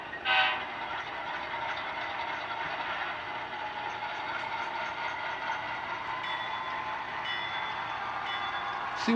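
A small Bachmann HO-scale model train runs along EZ Track with a steady whirring hum and faint clicking, quiet throughout.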